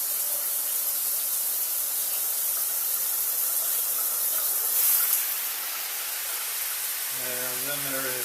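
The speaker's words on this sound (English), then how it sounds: "There's a rain shower." Rain shower head running in a remodeled bathroom, a steady broad hiss of falling water that swells briefly before easing, with a voice starting to talk near the end.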